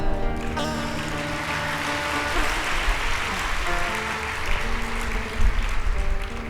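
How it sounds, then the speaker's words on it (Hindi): An audience claps together at a Hindi religious discourse, a dense, steady patter of hands that lasts several seconds, with faint voices underneath. "ताली तो ऐसे बजा रहे हो"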